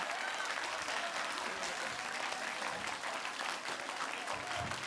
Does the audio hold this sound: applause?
yes